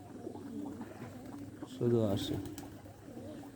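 Racing-type pigeons in a home loft cooing in soft, repeated rumbling phrases, with a louder burst of cooing near the middle; someone speaks briefly over the birds.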